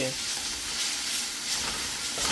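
Noodles and vegetables sizzling and spattering in a hot frying pan, a steady close crackling hiss that holds evenly throughout.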